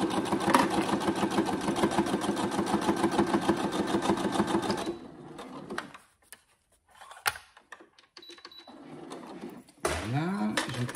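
A sewing machine stitches steadily and loudly for about five seconds while a needle is set into fabric for an envelope project, then stops; scattered handling clicks and a brief voice follow.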